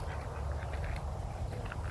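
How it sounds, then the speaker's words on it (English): Ducks at a hot springs pond in Tonopah, Arizona, quack in short nasal calls, fairly faint and somewhat distant, over steady low outdoor rumble with no speech. "Look at my friends, the ducks."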